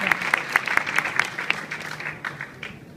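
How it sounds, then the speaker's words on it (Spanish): A small group claps steadily for a few seconds, sharp regular hand claps close by that loosen and thin out toward the end. "un aplauso para Ricardo"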